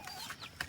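Chickens in a backyard chicken house give a few short clucks, close by and fairly faint, with brief gaps between calls and no talking.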